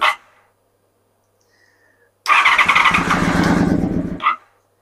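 A Honda VFR400R NC24 motorcycle engine cranking and catching, a short burst first, then a loud rough close-up run of about two seconds before cutting out.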